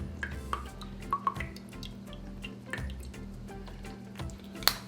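Worcestershire sauce poured and splashed into a pork butt mix for pulled pork, heard as scattered soft drips and liquid splats over a steady low background hum.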